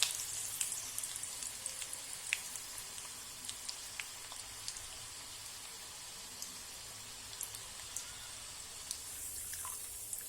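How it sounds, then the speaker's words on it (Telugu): Peanuts and curry leaves fry in hot oil, a steady close sizzle with scattered crackles and pops running throughout. "పల్లీలు ఫ్రై అయిపోయిన తర్వాత ఇందులో కరివేపాకు కూడా వేసుకొని కొంచెం ఫ్రై చేసుకొని"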